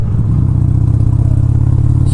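A Harley Sportster 74ci motorcycle engine rumbles loud and close with a steady, low, torquey throb, revving evenly as the rider shifts down through the gears on a road ride.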